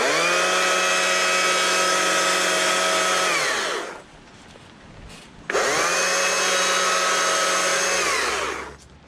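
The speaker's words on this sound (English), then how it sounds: "Bring the saw in low, cut in the nose." Petrol chainsaw cutting a wood carving, a loud steady high-pitched whine held for about four seconds, a short pause, then a second equally loud run that winds down at the end.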